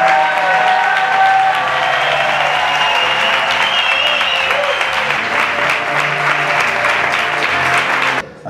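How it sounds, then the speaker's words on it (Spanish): A festival audience at a film gala in Estepona bursts into loud, sustained applause, a thick crowd of clapping with a faint musical tone under it that cuts off abruptly at the end. "¡Muchísimo aplauso!"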